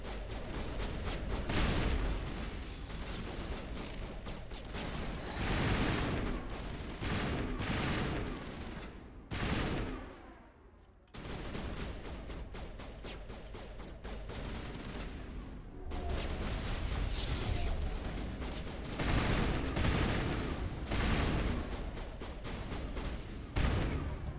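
Dense gunfire in the game Mass Effect, rapid loud bursts and volleys pounding almost nonstop, with one brief lull before the shooting resumes.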